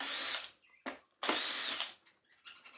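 A power drill spins in two loud whirring bursts, a short pause between them and fainter ratcheting after, as screws are undone from the floorhead base plate of a Dyson DC40 Mk1 upright vacuum.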